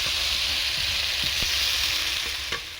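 Potatoes and soybeans frying in spices give a dense, loud, continuous hiss and sizzle close by, with a few small ticks and clinks from the pan and spoon.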